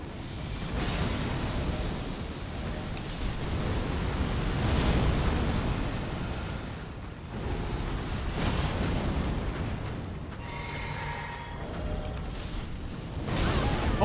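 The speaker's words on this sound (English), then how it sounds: "Holy shit, that's a big explosion." A big explosion from an attack in the video game Elden Ring: broad, rumbling bursts of noise that swell and decay repeatedly, loud and sustained with no talk.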